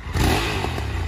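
A twin-cylinder motorcycle engine gives a short, loud, raspy rev heard up close.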